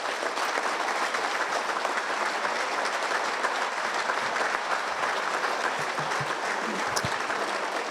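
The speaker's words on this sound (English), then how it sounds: "Let's have one more hand for all of tonight's inductees." Sustained applause from a banquet audience honouring sports hall of fame inductees in Saskatoon, steady and dense clapping filling the room for the full stretch without a break.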